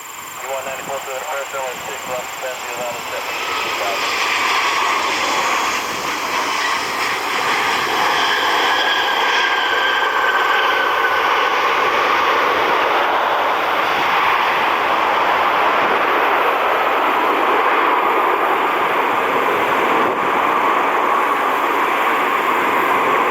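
A Delta Boeing 717 airliner arriving from Minneapolis rises from quiet into a steady, broad engine roar that holds for a long stretch at moderate distance, with a person talking over parts of it.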